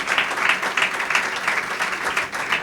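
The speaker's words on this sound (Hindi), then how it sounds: "आइए हम अपने बादशाह के लिए फिर से जोरदार तालियां बजाएं" A congregation at a gospel service claps loudly and steadily in praise of Jesus, a dense, continuous wash of many hands with a gently pulsing rhythm and no voices over it.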